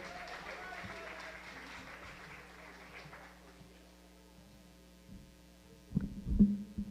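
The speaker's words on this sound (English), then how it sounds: "let's give another round of applause for the brothers of the SLC, the Student Leadership Council" Faint applause from an audience at an evening barbecue event in Oakland fades out over a few seconds beneath a low electrical hum, followed by brief louder handling thumps.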